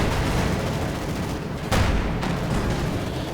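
IL-2 ground-attack aircraft making a strafing run in a World War II strategy game with T-34 tanks, a dense continuous roar of gunfire and rumbling battle noise with one sharp louder burst midway.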